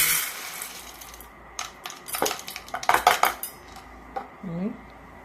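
A metal spoon clatters against a bowl as lentils are scooped in, a cluster of bright clinks and scrapes that grows busier in the middle, close and fairly quiet.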